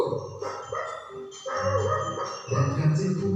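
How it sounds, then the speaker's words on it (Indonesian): A dog barks fiercely in quick repeated bursts, loud and close, with snarling, growly tones between the barks. "meninggalkan si anjing yang terus saja menggonggong dengan galak"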